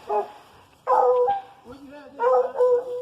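Several hunting dogs during a hog hunt bark, yip and whimper in loud, close bursts separated by brief pauses, with a voice talking among the dog noises.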